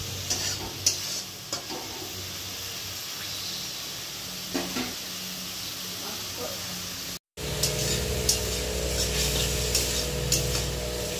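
Boiled saag greens steadily sizzling in a pan as their leftover water cooks off, with occasional stirring scrapes over a continuous hiss. After a brief break the sizzle returns louder and denser.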